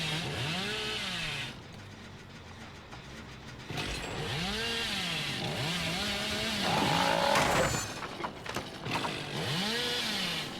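A chainsaw in the video game Dead by Daylight revs in repeated rising and falling bursts, loud and mechanical, with short quieter gaps between them and other game noise around.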